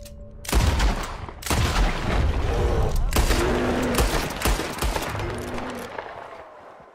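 Rapid gunfire aimed at a bear in Red Dead Redemption 2, a burst of close, loud shots in uneven succession, some tightly spaced, with a voice briefly under the clatter.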